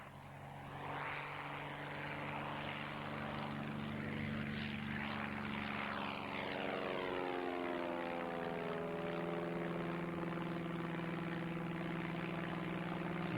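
At an agricultural aviation reunion air display, an agricultural aircraft drones past as a loud, steady propeller engine roar that swells and shifts pitch as it passes, with no talking.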